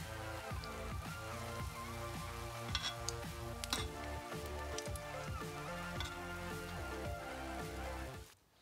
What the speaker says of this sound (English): then into the frying oil, just like I'm doing right here.